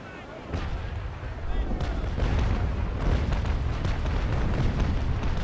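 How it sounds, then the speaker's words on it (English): Cannon broadside from a sailing warship in the naval combat game Naval Action: a dense run of overlapping booms and cracks rolls into a continuous thunderous rumble that swells and holds loud to the end. "I fire my broadside, then I get out of his way, he fires his"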